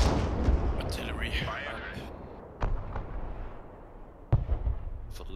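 Artillery fire in the video game Broken Arrow, with two or three sharp booming blasts spaced a couple of seconds apart over a rumbling backdrop, a whistling sweep near the start.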